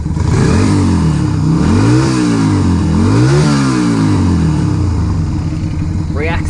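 A budget bobber motorcycle with a freshly adjusted carburetor needle jet runs close by, its engine rising and falling through several quick throttle blips before settling, while someone talks over it.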